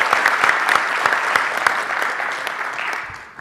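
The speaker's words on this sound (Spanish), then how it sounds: "les pido que le demos un aplauso" Conference audience applauding a Honduran brigadier general's presentation, a dense steady roll of many hands clapping close by that holds for several seconds and then begins to thin toward the end.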